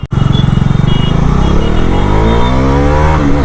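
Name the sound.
2025 Bajaj Dominar 400 motorcycle accelerating during ride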